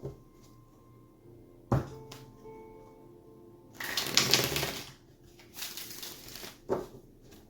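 Tarot cards being shuffled during a card reading: two bursts of riffling and flicking, with a few soft thumps of the deck between them, close and fairly quiet in a still room.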